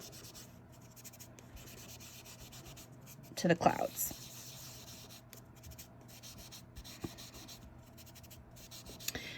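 Colored pencils shading across paper while filling in clouds, a soft steady scratchy rubbing that runs faintly through the whole stretch, with a brief louder burst midway and a few spoken words.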